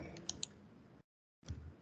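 Keystrokes on a computer keyboard as a command is typed into drafting software, a short run of soft clicks, then a brief pause and more clicking, close and quiet with no talking.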